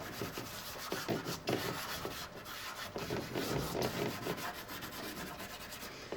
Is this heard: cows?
no